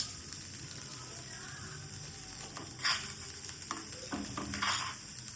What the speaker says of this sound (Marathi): हे सगळं आपण मस्तपैकी लालसर कलर येईपर्यंत भाजून घेऊया।